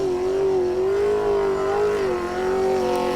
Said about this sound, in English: you can just listen to the engine